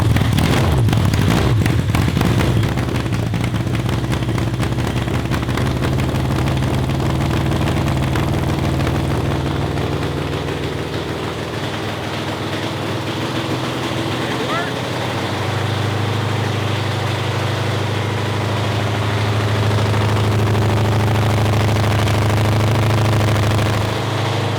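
A cross kart engine runs after being cranked, a loud low idle that settles in with steady droning and a brief rev near the end, alone without talk.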